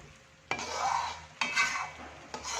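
Potato cooking in a pan while being stirred: three distinct scraping sweeps of a utensil across the pan, each a swelling rasp, over a faint sizzle, close and quiet.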